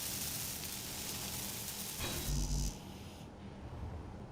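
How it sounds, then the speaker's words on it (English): Welding a drill together in Space Engineers on Xbox: a steady hissing, sizzling tool noise that swells into a louder crackling burst midway, then drops back to a quieter hiss. "Let's weld up the drill."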